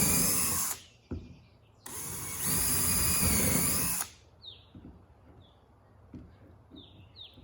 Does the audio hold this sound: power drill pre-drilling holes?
yes